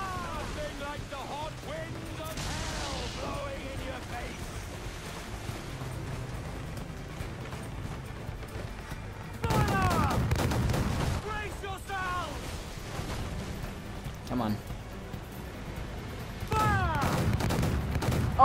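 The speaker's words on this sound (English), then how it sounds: "I didn't even know you could fire your mortars backwards" Ship mortars and cannon fire bursting from a pirate ship in Assassin's Creed IV: Black Flag, with heavy booms and volleys arriving in clusters over a constant low rumble of sea and battle, and someone talking throughout.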